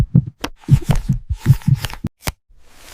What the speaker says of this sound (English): Heart pounding.